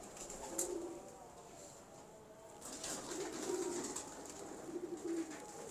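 Pigeons cooing at a pigeon keeper's loft, soft repeated low coos in a few bursts, faint and somewhat distant.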